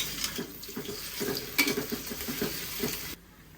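Green chillies and onions dropped into hot fish-frying oil, a loud steady sizzle and crackle close by that runs for several seconds before cutting off abruptly.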